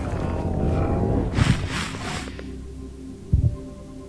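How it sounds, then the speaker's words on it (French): The Warden's heartbeat in Minecraft 1.19, set in an ancient city: two low double thumps about two seconds apart over a dark ambient hum, with a brief breathy sniff between them and no talk. "Et puis son battement de cœur, là,"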